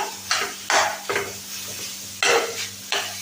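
Grated beetroot sautéed in ghee is stirred in a pan, with repeated scraping strokes of the spoon over a soft, steady sizzle, close and loud, with no talk.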